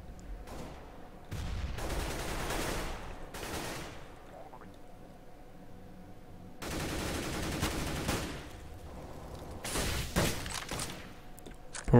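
Bursts of automatic gunfire from a Counter-Strike: Global Offensive esports match on the Inferno map come in several separate volleys of varying loudness, with quiet gaps between and faint talk in the background.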